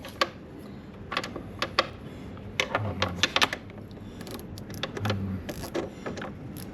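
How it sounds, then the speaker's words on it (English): A ratchet on a long extension tightens the cowling screws of a Mercury Optimax outboard, sounding as scattered bursts of sharp mechanical clicks with short pauses between turns. "Then you can reach in with a long extension and retighten them."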